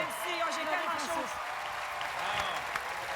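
Studio audience and guests on a Quebec variety game show clap together for the contestants, a lively burst of applause with excited voices calling out over it.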